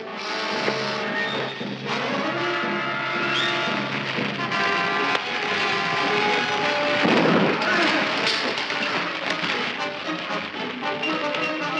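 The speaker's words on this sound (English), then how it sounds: "The ship's on fire." A spaceship burning in a 1957 science-fiction film, with loud rumbling blasts and crackling booms layered under dramatic orchestral music, and a heavier explosion surge about midway through.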